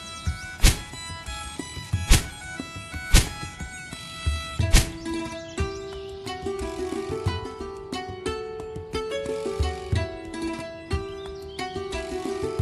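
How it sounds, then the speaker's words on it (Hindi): Sharp wooden thunks strike at a steady, spaced rhythm, axe blows biting into a tree, with tonal background music running underneath. "मेरे हिसाब से यही पेड़ ठीक रहेगा, चलो इसे ही काट लेता हूँ"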